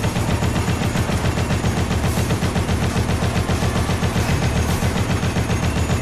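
Boss cannon firing during the finale fight of the video game Dead Rising, a loud, dense stream of rapid booming shots with constant rumbling gunfire and no pauses.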